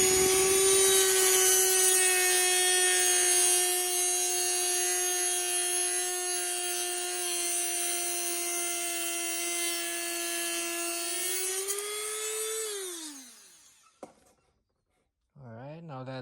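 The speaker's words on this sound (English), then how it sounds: "so I'm just gonna Dremel this off." A Dremel rotary tool cuts off a stripped screw on a 1:12 MN99s RC truck's portal axle, a loud, steady high-pitched whine held for about twelve seconds before it winds down and stops, followed by brief handling noises.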